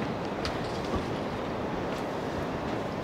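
Storm winds of up to 100 mph buffeting a narrowboat, a dense, continuous roaring rush with occasional gusty thumps, loud and steady throughout with no talk.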